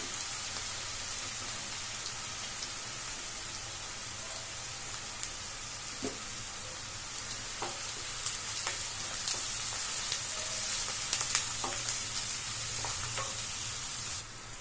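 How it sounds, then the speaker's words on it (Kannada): Finely chopped onions fry in hot oil for an egg masala gravy, giving off a steady, dense sizzle with occasional soft spoon scrapes and clicks as they are turned. There is no talking. "ಈರುಳ್ಳಿನ ಹಾಕೋತಾ ಇದ್ದೀನಿ ಹಾಕೊಂಡು ಗೋಲ್ಡನ್ ಬ್ರೌನ್ ಕಲರ್ ಬರೋವರೆಗೂ ಚೆನ್ನಾಗಿ ಫ್ರೈ ಮಾಡ್ಕೊಳ್ಳಿ"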